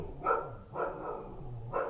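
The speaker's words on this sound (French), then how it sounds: "qu'est-ce qu'il fait à gueuler comme ça le chien là?" Dog barking outside on a freezing winter day, three loud, separate barks spaced evenly and close by, with no talk over them.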